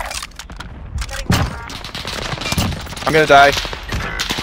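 Automatic gunfire in a multiplayer shooter game crackles in quick bursts near the player, strongest in a rapid string toward the end, while someone speaks over it.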